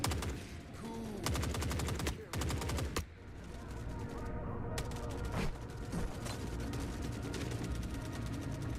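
Heavy automatic gunfire in the war game Forever Winter, dense rattling bursts and sustained volleys filling the scene with a few brief lulls, loud and close throughout.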